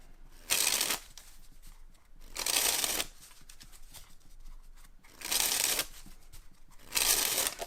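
David Blaine playing cards sprung and dribbled from hand to hand, four bursts of dense crisp fluttering riffles separated by quieter handling rustles, close and loud with no talking.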